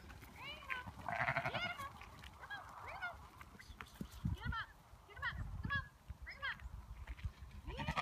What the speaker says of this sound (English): These are Old English baby doll Southdown sheep